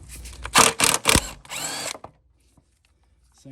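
A power drill fitted with a 14mm socket spins off bolts on a Honda HR214 mower's blade clutch: several short loud bursts with ratcheting rattle over about two seconds, then quiet.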